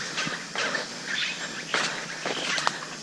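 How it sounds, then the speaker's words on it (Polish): Birds call and chirp in the Amazon jungle, with scattered bright tweets and trills rising over a constant hum of insects, fairly close and moderately loud. "Słuchajcie w ogóle tych ptaków."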